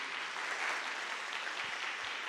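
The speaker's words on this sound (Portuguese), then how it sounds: "Uma salva de palmas para cada um de vocês" A parish audience gives dense, sustained applause: a steady, even crackle of many hands clapping at once, moderately loud and unbroken throughout.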